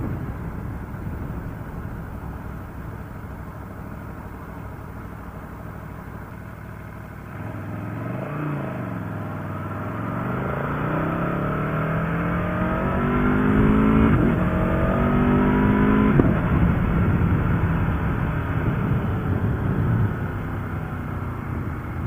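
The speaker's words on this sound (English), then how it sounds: "I'm hoping I'm getting a lot more engine noise than I am wind noise" An Aprilia Tuono V4 1100 Factory engine drones steadily while riding, then revs up through rising gear pulls, growing louder and strained, with a constant rush of wind underneath.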